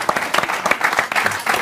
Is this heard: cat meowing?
no